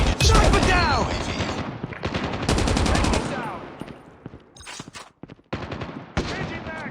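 Machine gun fire from the Call of Duty Mobile video game: rapid bursts of shots loud and close, broken by short pauses, with game voices and callouts talking over much of it.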